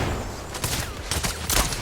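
Gunfire in Zenless Zone Zero from an enemy sniping at range, heard as several short broadband bursts in quick succession over game background noise, moderately loud with no talk.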